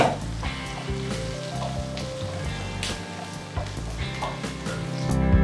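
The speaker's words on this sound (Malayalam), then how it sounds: "ഇതിനെ നന്നായിട്ടൊന്ന് മൂപ്പിച്ചെടുക്കാം." Sliced ginger and curry leaves frying in hot oil for a Kerala-style pork fry give a steady, close sizzle throughout, with a few soft clinks and a rise in intensity at the end.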